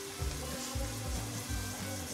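Vegetables cooking in a little oil for veg hakka noodles, a soft continuous sizzle and gentle bubbling close by, steady in level with no voices.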